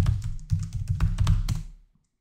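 A computer keyboard is typed on in a quick run of close, crisp keystrokes for under two seconds while a password is entered, then it stops; no one speaks.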